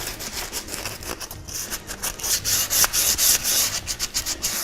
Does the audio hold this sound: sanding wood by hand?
yes